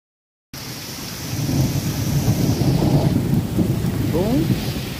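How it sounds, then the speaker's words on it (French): Rain pours down steadily while a deep roll of thunder rumbles through, loud and sustained after a brief silence at the start, in Spain on the Camino Francés. "Il pleut. Et on a l'orage."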